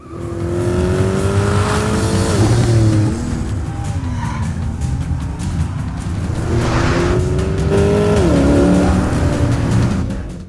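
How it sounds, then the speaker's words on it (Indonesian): Sports cars in a film chase, including a Bugatti 57 SC Atlantic, a Shelby Cobra 427, a Maserati Quattroporte and a Porsche 911 Carrera, roar loudly without a break, engines revving up and dropping in pitch with brief tyre squeals. "Terjadi aksi kejar-kejaran antara Andrew yang menggunakan Bugatti 57 SC Atlantic serta Garrett yang menggunakan Shelby Cobra 427"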